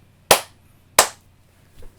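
Two sharp, loud hand claps close to the microphone, spaced under a second apart in a quiet room, with a softer faint knock following.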